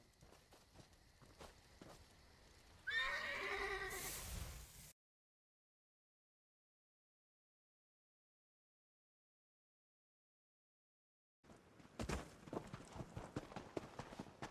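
Horses clip-clop in Elder Scrolls Online Dragonhold on the way to the Abbey of Blades, with a hoof-and-movement burst that stops in dead silence for several seconds before busy game sound returns.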